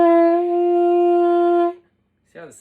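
A single held saxophone note with a soft, unarticulated onset lasts under two seconds, followed by a brief pause and a voice starting to talk.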